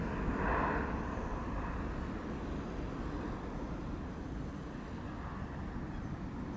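A TUI Boeing 787-8 Dreamliner departs Schiphol's runway 24, its engine roar a steady, moderately distant rumble that swells slightly at the start and then holds evenly, no talking.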